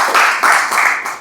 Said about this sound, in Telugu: వాళ్ళకి ఒకసారి గట్టిగా మనం మళ్ళీ క్లాప్స్ కొడుతుంది.